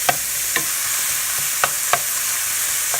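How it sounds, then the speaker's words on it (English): Bacon strips frying on medium heat in a pan, a steady close sizzle with a few sharp pops and crackles scattered through it. "You're going to fry your bacon on about medium."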